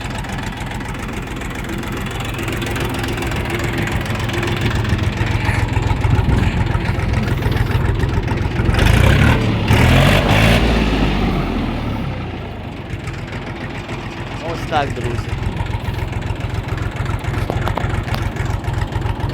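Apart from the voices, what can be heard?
Kentavr Chinese mini tractor engine running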